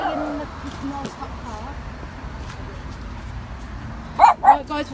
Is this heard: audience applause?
no